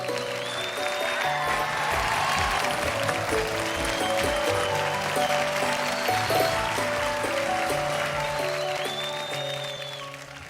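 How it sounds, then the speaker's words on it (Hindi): Sustained audience applause in the finale of a televised talent show, a dense steady wash of clapping with music playing underneath and a tone sweep near the start and end, fading slightly at the close. "तालियां बजती रहें आपकी"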